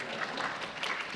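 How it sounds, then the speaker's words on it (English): An audience claps at a Sunday morning gathering, a brief steady patter of many hands heard from within the crowd. "Okay, keep going. You can clap."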